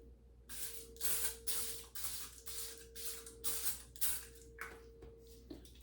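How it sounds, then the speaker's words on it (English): Rapid bursts of fine mist from a hydrating face spray bottle, about a dozen short hissing pumps in an uneven rhythm, close and quiet against a low hum. "It's just like a hydrating spray."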